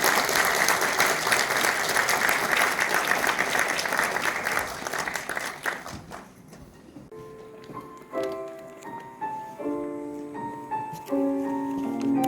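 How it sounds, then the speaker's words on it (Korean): Loud applause from a church choir festival audience for a women's choir, dense and sustained for about six seconds before fading, followed by piano or bell-like musical notes. "다시 한번 뜨거운 박수로"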